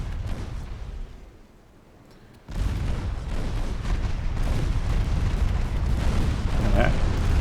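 Naval guns fire in a British classic naval wargame: a loud, heavy booming roar surges in after a quieter lull and rumbles on continuously, with a voice faintly in the mix.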